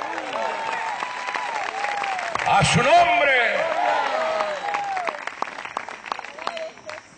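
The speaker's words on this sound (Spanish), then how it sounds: "Para él ese aplauso fuerte" Applause from a church congregation fills the sanctuary during a sermon, a steady clapping wash sitting under a preacher's loud, excited shouted voice that rises in the middle and keeps going throughout.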